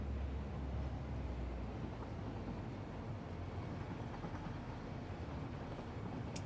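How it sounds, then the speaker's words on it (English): A train rolls along a track in the video game Satisfactory, a steady, continuous low rumble with broadband rail noise holding at an even level throughout, with no talking. "let's go ahead and drive this train first and see if this train can make it to the train station."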